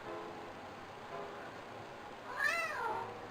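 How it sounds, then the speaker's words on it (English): A single cat meow rises and falls near the end, over a low steady background hum. "Meow."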